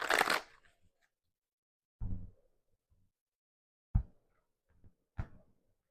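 Handling and shuffling a deck of oracle cards, a few soft separate riffling and tapping bursts spaced with quiet gaps, close and faint, with no voices.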